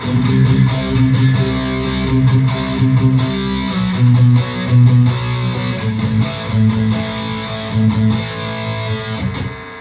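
A Music Man-style Lavish JL P Class electric guitar with heavy distortion playing steady sustained chords, loud and continuous with no voices.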